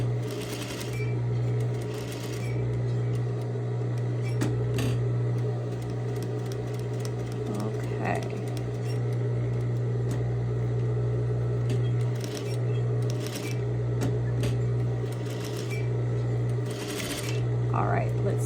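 A sewing machine stitches curved lines on a 10x10 sampler in steady runs, pausing briefly for pivots, while someone talks over it throughout.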